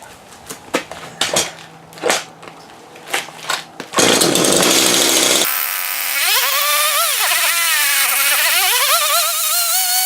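A Homelite chainsaw after a carburetor and clutch rebuild: several sharp pull-start attempts, then the two-stroke engine catches and runs loudly, revving up and down unevenly at half choke.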